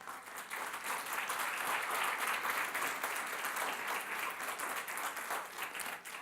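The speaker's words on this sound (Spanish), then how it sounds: "Denle un aplauso al Señor por eso." A church congregation applauds the Lord during a sermon, a steady, sustained wash of many hands clapping at a moderate distance, holding even for several seconds before easing slightly at the end.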